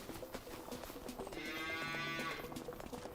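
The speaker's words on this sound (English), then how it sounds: "Right, so we got cows. We got 25 of these." Cattle lowing in the Farming Simulator 25 video game, one drawn-out moo rising in the middle of the clip over a faint farmyard background, with no talk.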